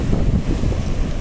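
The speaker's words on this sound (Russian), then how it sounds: "Сегодня тепло, но сильный ветер днем поднимается." Strong daytime wind buffets the microphone on a warm beach at Blanes, Spain, a steady loud low rumble that fills the whole clip with no voices.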